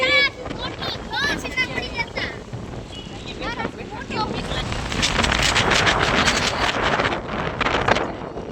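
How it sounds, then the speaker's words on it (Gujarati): Strong wind in rain-like weather buffets the microphone with a rough, rumbling roar that builds to a loud sustained gust in the second half, while voices talk and call out over it. "જો મિત્રો, ફૂલ પવન છે, વરસાદ જેવું થઈ ગયું છે"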